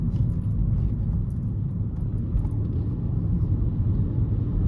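Steady low drone of a Honda Civic's 1-liter turbo engine cruising on a rainy road, with tire and road rumble close and even throughout, no voices.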